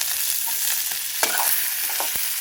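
Onions sautéing in hot oil in a pan for mint and coriander chutney, a steady sizzle with scraping stirs and a few sharp utensil taps, close and alone.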